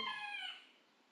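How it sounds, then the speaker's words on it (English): A single rooster crows close by, a loud harmonic call that fades out after about half a second. "listening to the glorious sound of my roosters"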